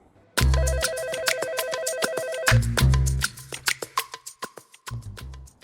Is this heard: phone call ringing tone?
yes